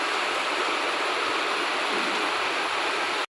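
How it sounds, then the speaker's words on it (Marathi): Heavy monsoon rain pours down in a steady, loud, dense roar that fills the whole stretch without a pause, then cuts off abruptly at the very end. "मुसळधार पावसाचं आगमन झालेलं आहे आज आमच्या इकडं."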